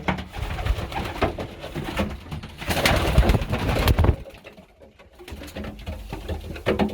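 Young pigeons and newly hatched pigeon chicks coo and rustle close by in a steady, fairly loud stream, with a brief quieter dip before the murmuring returns.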